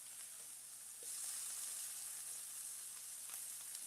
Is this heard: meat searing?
yes